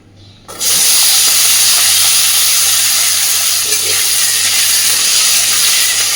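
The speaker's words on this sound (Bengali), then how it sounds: "এইবার ছোট ছোট করে কেটে রাখা আলুগুলোকে একটু ভেজে নেব" Chopped potatoes hit hot oil in a kadai for a kalmi shak ghonto and erupt into a loud, steady, close sizzling hiss that holds without a break.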